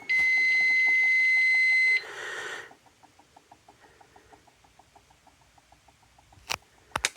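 A fire alarm panel signals a zone 5 alarm during a system test, sounding a loud steady tone for about two seconds, then a burst of noise and a quick run of faint rhythmic beeps, with a few sharp clicks near the end.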